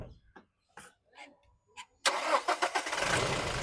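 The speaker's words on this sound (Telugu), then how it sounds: "సింగిల్ సెల్ఫ్లో బండి స్టార్ట్ అవుతుంది." A 2017 Toyota Innova Crysta 2.4V diesel cranks and fires on a single start, catching abruptly after a quiet moment and settling into a steady, close, loud idle.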